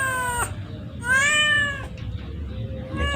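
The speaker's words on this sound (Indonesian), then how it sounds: "Kucing." Cat meowing up close, two drawn-out, wavering meows separated by a pause, with a third beginning at the end, over a low background hum.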